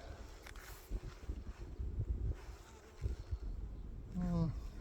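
Honey bees hum at an opened hive while comb frames are shuffled, a close, fluctuating buzz with a few bumps and faint voice traces.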